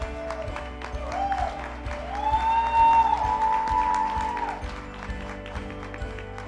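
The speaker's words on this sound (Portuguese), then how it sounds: "Aplaudamos então os padrinhos!" Guests applauding the groomsmen and bridesmaids at a wedding ceremony at Villa do Lago, with a steady patter of clapping under a sustained melodic tone and some murmured voices.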